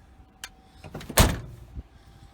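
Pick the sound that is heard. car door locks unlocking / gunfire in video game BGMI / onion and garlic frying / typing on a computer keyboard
car door locks unlocking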